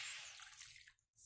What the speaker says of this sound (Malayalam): കുറച്ച് വെള്ളം കൂടി ജാറിനകത്ത് ഒഴിച്ചിട്ടുണ്ട്